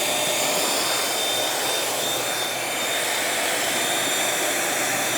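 A Bissell Featherweight vacuum cleaner picking up debris gives a loud, steady, close roar that runs without a break from start to finish.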